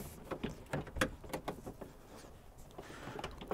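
A broken rear inside door handle on a Toyota Camry slides into the door panel with a rapid series of sharp plastic clicks and taps, then a short scraping stretch, all close and fairly quiet.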